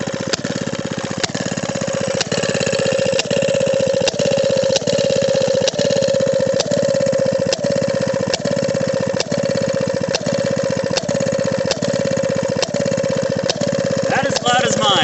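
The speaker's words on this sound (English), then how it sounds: "So yeah, just a really good running engine." Maytag 92 long base engine idles close by with a steady, rhythmic single-cylinder popping, loud and even throughout, with no talk over it.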